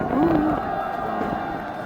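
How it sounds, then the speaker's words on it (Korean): A Korean audience at a public speaking event applauds and cheers for a former chief of inspection at the Supreme Prosecutors' Office, in a steady, dense crowd roar with a brief whoop near the start. "뜨거운 박수 부탁드리겠습니다"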